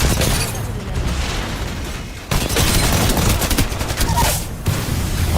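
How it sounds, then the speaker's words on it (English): Grenade blasts and heavy gunfire in Apex Legends fill the clip, loud and dense, with a sudden burst of booming explosions midway followed by continuing rapid shots. "Look at that beautiful nade combo with the Newcastle slam"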